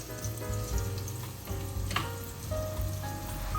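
Crushed garlic and onion with a pinch of salt fry in a pan, giving a steady close-up sizzle dotted with crackles and pops, with no voice over it.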